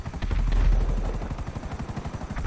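Helicopter in the video game GTA 5 Online, a steady rapid rotor chop with throbbing low thump filling the clip, loud and close, with rattling bursts that suggest gunfire mixed in.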